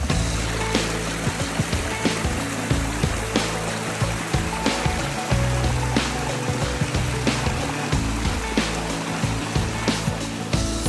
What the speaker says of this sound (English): And there's a waterfall on the side of the road.